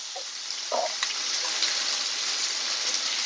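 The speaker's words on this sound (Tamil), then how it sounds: "இந்த பாருங்க, இது வதங்கிட்டே இருக்கட்டும்." Ivy gourd with curry leaves sautéing in a pan, giving a steady, bright hiss of frying with a couple of brief stirring scrapes near the start.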